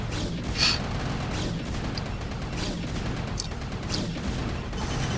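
Protoss scouts fire photon blasters in a StarCraft: Remastered match, a rapid run of sharp crackling shots and booms over a dense battle din.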